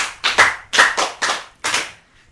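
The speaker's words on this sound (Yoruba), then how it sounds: "ẹ pàtẹ́wọ́ fún fífọ́ o" Children clap their hands in short bursts at a children's programme, giving five or six quick, close, loud rounds of applause that stop abruptly near the end.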